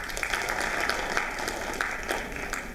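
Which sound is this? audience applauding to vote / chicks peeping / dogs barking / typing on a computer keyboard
audience applauding to vote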